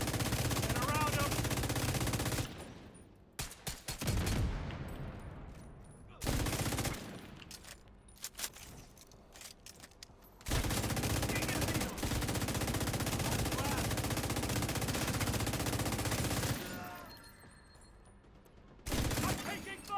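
Video game gunfire in long, loud automatic bursts broken by brief quieter gaps, with scattered single shots between them and voices talking over the shooting.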